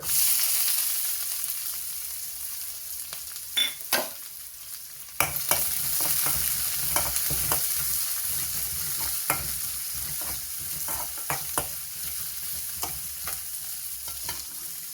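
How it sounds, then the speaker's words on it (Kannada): Cumin seeds frying in hot oil in a pan, a steady close sizzle with scattered sharp clicks and scrapes of stirring throughout, no voices. "ಈಗ ಸ್ವಲ್ಪ ಕ್ಯುಮಿನ್ ಸೀಡ್ಸ್ ಹಾಕ್ತಾ ಇದ್ದೀನಿ, ಜೀರಿಗೆ."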